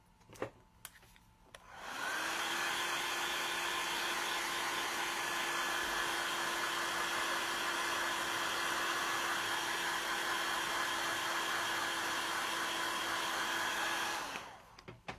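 A hair dryer switches on to dry paint on a salvaged craft piece, spinning up to a steady, close whirring blow with a constant hum that runs evenly for about twelve seconds before winding down and stopping.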